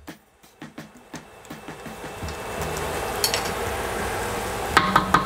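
Beef frying in a pan as salted butter goes in, a few light clinks and stirs giving way to a steady, close sizzle with scraping near the end.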